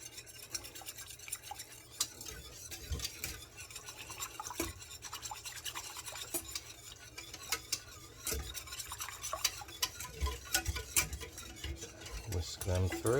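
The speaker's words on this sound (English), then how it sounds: "Whisk them through." A whisk beats salt, white pepper and grated nutmeg into milk in a pan, a quiet, busy stream of rapid metallic ticks and scrapes that runs close and continuous, growing slightly louder toward the end.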